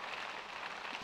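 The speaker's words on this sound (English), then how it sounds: "Not only is it raining, I think it's hailing." Rain mixed with hail falls in The Sims 2, heard as a faint, even hiss of steady patter with no pauses, quiet and alone without voices.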